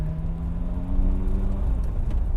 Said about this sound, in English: I'm driving my Ferrari.